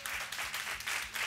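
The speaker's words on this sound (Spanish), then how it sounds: "quiero un aplauso para vosotros" Brief burst of audience applause at a televised family game show in Numancia de la Sagra, a fairly faint and distant wash of clapping with no talk over it.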